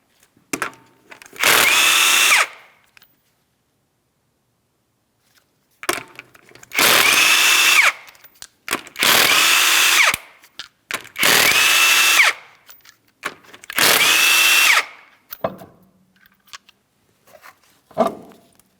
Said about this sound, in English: you're going to remove all 5 of your 19mm lug nuts